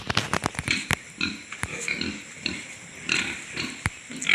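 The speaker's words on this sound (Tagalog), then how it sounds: "Dalaga pig talaga." Young female pig grunting in short, irregular bursts close by on a farm, with sharp snorts and clicks scattered between the grunts.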